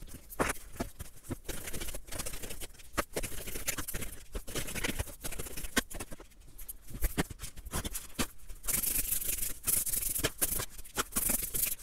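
Tarot cards being shuffled and drawn close up: quiet papery patter, rubbing and rapid flicking in irregular bursts, with soft slaps as cards are set down.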